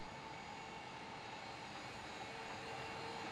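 An electric road sweeper, the CityCat 2020 EV, produces a faint, steady whirring hiss with a constant tonal whine, heard alone and without talk.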